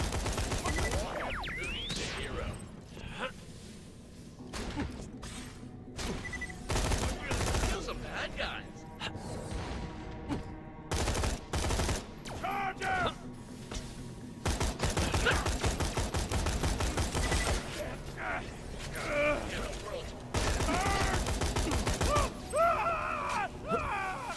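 Assault rifle fire in the shooter Borderlands The Pre-Sequel, a legendary weapon, crackling in repeated loud bursts with short gaps, mixed with game effects and occasional grunts.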